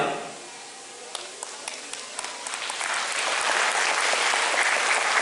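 Audience applause at a college first-anniversary certificate and awarding ceremony, starting with scattered claps and swelling into a full, steady round that keeps building to the end.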